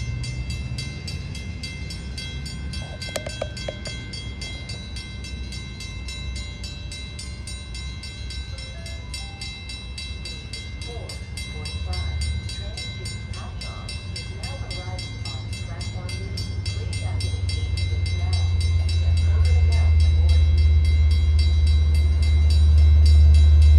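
Long Island Rail Road commuter train pulling away from a station platform, a low rumble that builds steadily louder over the final stretch, with faint background voices at the station.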